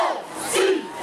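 Students cheering and shouting at the UTC bonfire, a brief burst of crowd whoops and yells at moderate distance.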